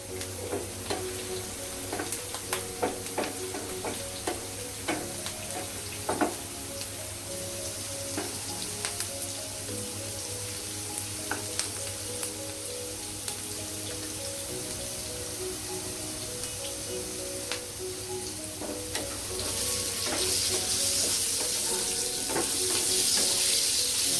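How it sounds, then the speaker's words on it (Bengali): Steady sizzling of potatoes and pointed gourd frying in oil with onions and green chilies, with intermittent scrapes and clatters of stirring throughout, growing slightly louder toward the end. "আমার আলু পটলটা ভাজা হয়ে গেছে,"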